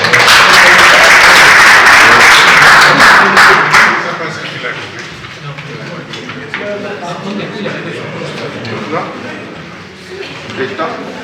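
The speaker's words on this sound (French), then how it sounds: "Applaudissements" Audience applause at a support meeting for Cameroonian defense forces against Boko Haram, loud dense clapping for about four seconds, then fading to scattered claps under murmuring voices and talk.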